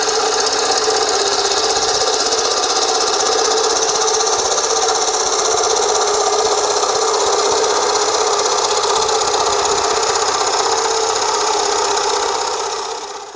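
A wood lathe spins a natural edge bowl while a freshly sharpened tool makes the final smoothing pass. A loud, steady whirring hum with a rough cutting hiss holds for about thirteen seconds, then drops off at the end.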